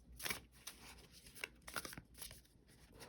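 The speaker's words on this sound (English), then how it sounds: "I'll give it a little shuffle." Close, crisp riffling and flapping of an oracle card deck being shuffled in a few quick bursts, with soft papery snaps in between.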